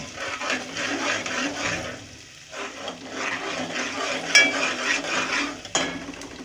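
Onions browning in a pan for aloo ki tahiri, with a steady sizzle and scraping spoon strokes, a brief lull midway and a couple of sharp metallic clinks near the end.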